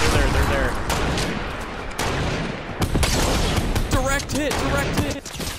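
A rocket launcher fires in an online shooter video game amid dense, loud bursts of gunfire and booming blasts, with players talking excitedly over the action.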